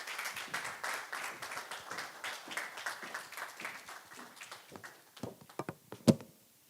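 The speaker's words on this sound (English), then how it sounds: "Clapping, don't stop applauding her." An audience at a women's oil and gas event applauding a speaker, a crowd of claps heard from a distance that gradually thins out into a few scattered, sharper claps, ending with one loud close clap.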